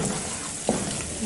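Onion and rice fry in a pan with a steady, dense sizzle, close and continuous, with a brief soft clink of a utensil partway through.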